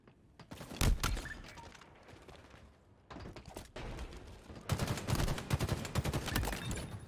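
Rapid gunfire bursts crackle in a Halo match, with clusters of sharp shots and sustained volleys at moderate loudness, separated by brief lulls.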